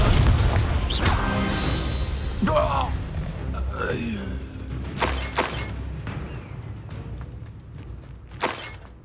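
Confringo blasts and shattering impacts from a Hogwarts Legacy spell fight: several sharp crashing bursts, the loudest early, then scattered thuds and a late crack, with game voices and effects under them.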